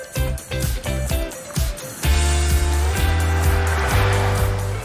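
A motorhome on a test drive ahead of a trip to France, engine droning steadily and close with a low rumble that shifts gear partway through, a continuous road noise with no talk over it.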